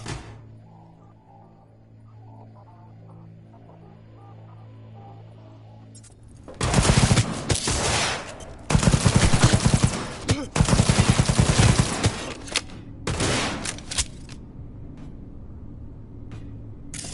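Gunfire in the video game Cyberpunk 2077: after a quiet stretch under a low musical hum, loud rapid automatic bursts break out in several long volleys, then trail off into scattered shots.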